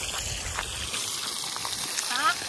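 Fresh pond fish fry in oil at a pondside spot, giving a short, steady crackling sizzle close by with a brief bubbling flare near the end.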